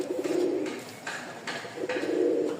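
Pigeons coo nearby in soft, throaty rolling phrases, a few repeated calls with brief pauses between them, over a quiet background.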